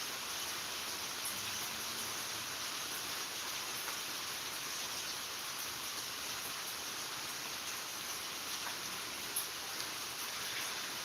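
Pouring rain falls outdoors as a steady, dense hiss of drops, continuous and even throughout, with no voices.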